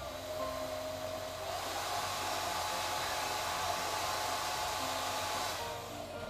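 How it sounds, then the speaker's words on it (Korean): A hair dryer blows in a steady, loud whoosh that swells up after a moment, holds, then eases off near the end. No voices. "뿌려준 다음에 드라이기로 열."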